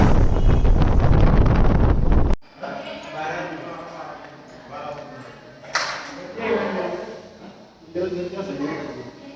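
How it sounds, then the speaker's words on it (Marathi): Cold evening wind near the Jyotiba temple buffets the microphone in a loud, rough roar for about two seconds, then drops to a softer, gusty background with a few later swells. "थंड थंड वारा"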